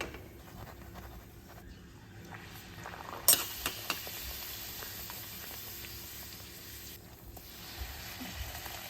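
Mango puris deep-frying in oil: a continuous soft sizzle throughout with a few sharp crackles and splashes midway, close and fairly quiet, with no voices.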